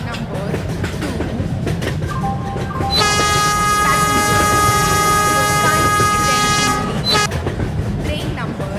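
An AC double-decker superfast express train pulls into a railway station platform, with station rumble and a long steady horn-like tone held for about four seconds in the middle.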